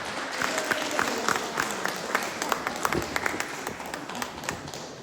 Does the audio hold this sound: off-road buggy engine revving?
no